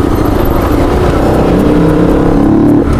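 Bajaj and Apache motorcycles revving hard on a road, a loud continuous engine roar rising in pitch as they accelerate close by, with no talk over it.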